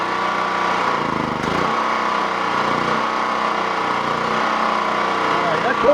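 A small generator engine with its choke set halfway runs steadily at close range, a continuous droning hum with no clear surges across the whole stretch.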